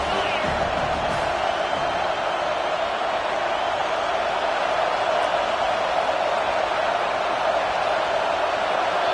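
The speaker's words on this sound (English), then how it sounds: "These fans raising the volume on second and goal." A football stadium crowd on second and goal, a broad, steady wash of fan noise with scattered whoops that stays loud and constant from start to finish.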